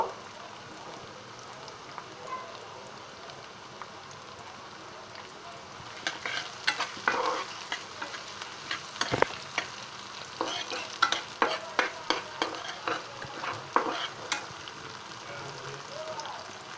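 Soft frying sizzle in a pan, joined halfway by repeated scraping and stirring strokes in an irregular rhythm, fairly quiet and close, while lentils are fried before salt and prawns go in.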